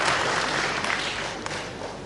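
Crowd at a live professional wrestling bout breaking into sustained applause after a move, a dense wash of clapping from a large audience that holds steady, with a few louder thuds poking through.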